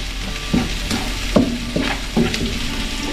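Onion, garlic and ginger sautéing in a pan, a steady sizzle with several distinct stirring scrapes spaced through it, fairly close and with no talking.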